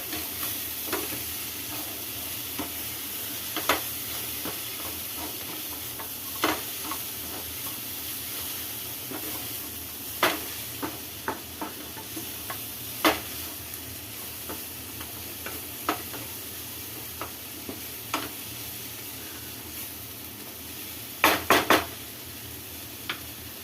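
Cabbage sizzles and hisses steadily as it is stir-fried in a hot pan, broken by occasional scraping clicks of a spatula stirring.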